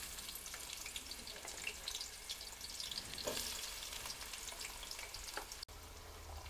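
Onions and fenugreek seeds fry in oil as the base for a fish curry, a soft continuous crackling sizzle with light stirring scrapes, fairly quiet and close.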